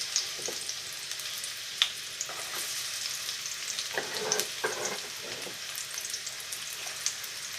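Onion and garlic frying in hot sunflower oil, a soft continuous sizzle with occasional crackles and pops and a few light utensil clinks and stirring scrapes, close and fairly quiet.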